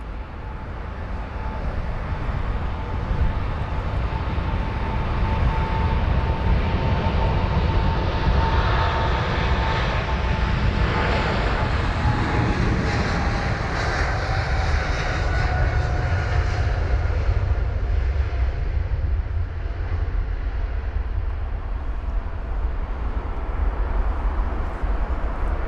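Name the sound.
aircraft at London Heathrow airport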